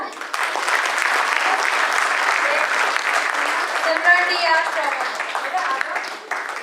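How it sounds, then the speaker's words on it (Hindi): A theatre audience at a Jhalkari Bai stage presentation bursts into loud, sustained applause, dense clapping filling the hall for several seconds with a slight swell near the middle. "तो उसके लिए सबके लिए जोरदार तालियां"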